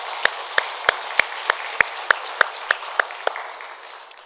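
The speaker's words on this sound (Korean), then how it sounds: "감사하며 우리 다시 한번 박수하겠습니다" During a church service, a small group claps in slow unison, about eleven sharp, evenly spaced claps over a soft room murmur, the rhythm fading out toward the end.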